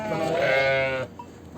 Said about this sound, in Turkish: Bu keçimiz e, ırkı ne arkadaşlar? Kilis mi? Halep.